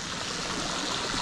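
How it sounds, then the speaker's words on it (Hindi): A mountain stream rushes across a road on the Leh–Manali route during a bicycle trip, a loud, continuous close-up wash of flowing water with no voices. "भाई, बहुत पानी है, बस शूज गिल्ले ना हो।"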